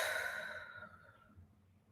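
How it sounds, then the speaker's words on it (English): A single slow meditative exhale, soft and breathy, fading gradually over about two seconds, close and quiet with no talking. "I exhale"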